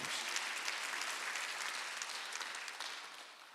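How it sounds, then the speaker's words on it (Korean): A church congregation claps during a Thanksgiving Sunday worship service, producing a dense, bright patter of many hands that holds steady, then gradually softens as it tapers off, with no voices over it. "박수 하나 되세요"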